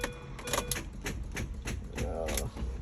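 Rapid repeated clicking from a Mini Cooper S as the key is turned on a start attempt with a low battery that cannot crank the engine, a steady ticking rattle up close with faint talk in the background.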